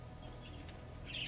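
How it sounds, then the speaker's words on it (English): Pet birds kept indoors chirp faintly in the background of a quiet room, with a brief burst of high, thin chirping near the end and no voices. "I'm sorry if you can hear my birds chirping in the background."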